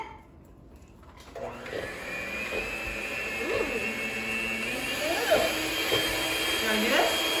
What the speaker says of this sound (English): We're gonna beat the butter until it is nice and fluffy.